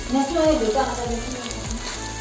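Oil sizzles steadily in a pan while pigeon meat is cooked for an Assamese curry, a close, continuous frying hiss with faint scraping underneath.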